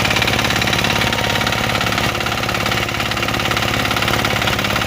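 A mini tiller with an F8 engine runs steadily at close range, a loud, even mechanical drone with a fast rhythmic chug that holds throughout, with no voices.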